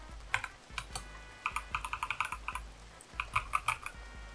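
Rapid, crisp keystrokes on a computer keyboard click in bursts with short pauses, close and quiet, no talking.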